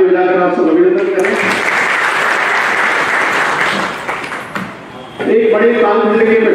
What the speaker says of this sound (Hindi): मैं आग्रह करूंगा कि ताली बजाकर आप सब अभिनंदन करें।